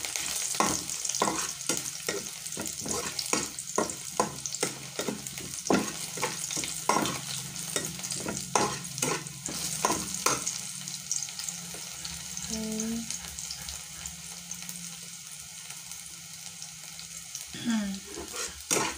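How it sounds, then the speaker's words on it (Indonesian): Rhythmic scraping and clattering of a spatula tossing vegetables in a hot pan, under a constant sizzle, with a short metallic squeak near the end and no talk. "Tumis sampai matang ya."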